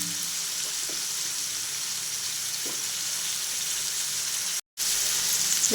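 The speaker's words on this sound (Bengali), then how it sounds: "খুব ভালোভাবে এগুলো আমি নাড়িয়ে নেব" Ground turmeric, cumin and coriander sizzle steadily in a pan for a vegetable masala dalia, with a continuous close frying hiss and a few soft stirring scrapes, briefly cut by a short gap.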